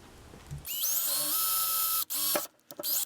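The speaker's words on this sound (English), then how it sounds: "drill in the center of the cap a 1/4-inch hole" Small power drill boring a quarter-inch hole through the center of a plastic cap for a brine shrimp hatchery: a close, whining motor that spins up, holds steady for over a second, cuts out briefly, then runs again in short bursts.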